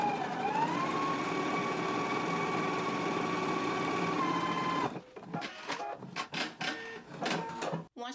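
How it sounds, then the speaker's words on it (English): A sewing machine runs stay stitching along a shirt front, a steady, close mechanical whine that rises slightly in pitch and holds for about five seconds, then stops and gives way to a quick series of sharp clicks and taps. "So now let's go ahead and do our stay stitching now."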